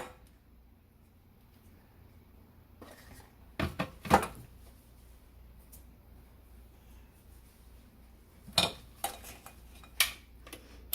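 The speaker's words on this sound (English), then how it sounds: "get it down in there so we can mix it all in there together" Cake batter for an orange vanilla Coca-Cola cake stirred with a spatula in a bowl, giving a few scattered scrapes and clinks against quiet background, with louder knocks in the middle and near the end.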